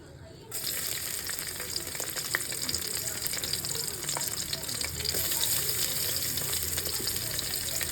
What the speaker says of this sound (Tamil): குக்கரில் வந்து பார்த்திங்கன்னா எண்ணெய் நெய் பட்டை வகையெல்லாம் சேர்த்துருக்கேன் இதெல்லாம் கொஞ்சம் அப்படியே பொறிஞ்சு வருது